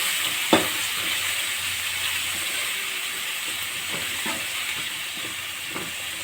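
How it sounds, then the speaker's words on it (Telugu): Tomatoes frying in a pan with turmeric give a steady, close hiss of sizzling oil, with a few soft utensil knocks and a sharp tap near the start. "బాగా ఇంకొక 2 మినిట్స్ వేగవాల"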